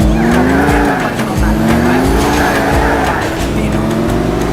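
Stunt driving in GTA IV: a loud, steady car engine runs throughout, with long wavering tire squeals and skids layered over it and no talk.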